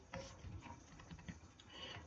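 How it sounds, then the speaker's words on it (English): Soft, quiet patter of keys on a computer keyboard, fairly distant and steady over a low background hum. "Let me just type"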